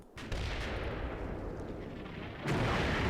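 Mortar artillery fire in the war video game Blitzkrieg: a continuous roar of distant explosions and blasts, swelling louder in its last second, with no speech.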